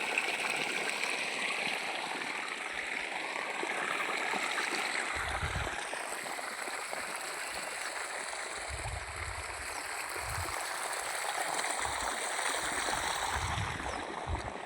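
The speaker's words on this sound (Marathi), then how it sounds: "नळाद्वारे आपलं पाट पाण्याने चाललं आहे" Irrigation water running from a tap fitted to a 100-litre drum into a channel in an organic onion field, a steady close trickling and gurgling flow with a few low thumps, no talk.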